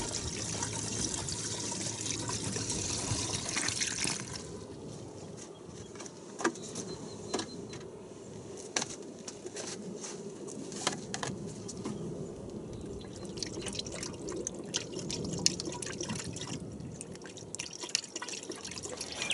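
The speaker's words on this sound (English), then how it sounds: "Next, fill the radiator." Liquid pours steadily with a gurgling, trickling rush, close by, as coolant and distilled water fill the radiator of a 2001 Dodge Ram 2500 Cummins diesel, joined by scattered drips and small clicks throughout.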